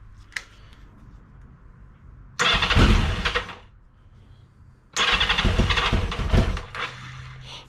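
1982 Yamaha XJ650 motorcycle cranked on half choke: a faint click, then two separate loud bursts of starter cranking and the engine catching, with quiet gaps between them and no talk.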